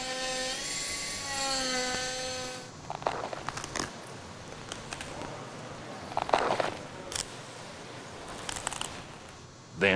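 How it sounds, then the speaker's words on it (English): A pneumatic air scribe whines steadily at first, then chatters and scrapes in irregular bursts as it chips hard rock away from a fossil on a museum preparation bench. "power tools such as the air scribe if the rock is hard"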